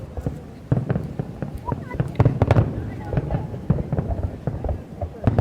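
Fireworks burst and crackle through a Saudi National Day celebration, with repeated sharp pops and booms of varying loudness, some close and some more distant, over a steady crowd murmur.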